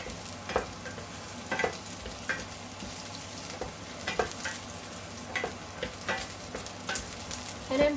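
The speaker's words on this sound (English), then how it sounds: "See, just that stir fried, saute, something like that." Mussels being stir-fried in a pan, a steady close sizzle broken by repeated scraping stirs at irregular intervals, with no voices.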